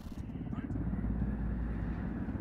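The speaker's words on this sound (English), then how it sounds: "And here we are in another helicopter." A helicopter in the video game Ghost Recon Wildlands gives a steady, heavy rotor drone with dense low-end rumble, loud and continuous throughout with no voices.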